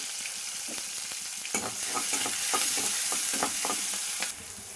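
Green chillies, curry leaves and onion pieces fry in hot oil for sago khichdi, giving a steady close sizzle broken by repeated scraping stir strokes of a spoon against the pan.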